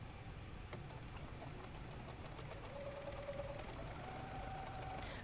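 A sewing machine stitching around an oval of puppet fabric, a steady fast mechanical whir with faint clicks, quiet and continuous without talk.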